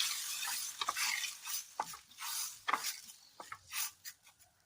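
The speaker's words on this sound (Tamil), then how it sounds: "இப்போ இதெல்லாம் நல்லா மிக்ஸ் பண்ணிக்கலாம்." Tempered oil being stirred through raw tamarind chutney, a spoon scraping and swishing in repeated wet strokes close by, with faint sizzling underneath.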